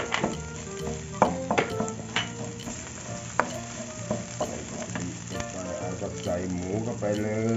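Shrimp paste and turmeric stir-fried over lowered heat in a pan for a spicy pork belly and long bean dish, a steady close sizzle with scraping stir strokes and occasional utensil clinks, with a voice talking over it.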